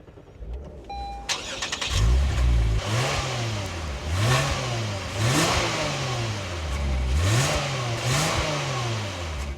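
A 2025 Lexus IS 350 starts with a starter whir and catches, then the engine is revved repeatedly in rising and falling sweeps, loud and close, with no voices.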